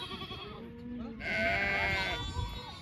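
Goats bleat in a loud, wavering cry that swells midway and then fades, with a busy farmyard murmur continuing underneath.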